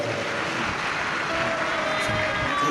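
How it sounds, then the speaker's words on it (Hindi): Loud, steady clapping from a large crowd at a live Shiv Mahapuran religious discourse, a dense continuous wash of applause filling the whole stretch with no pause. "एक बार जोरदार ताली बजाकर"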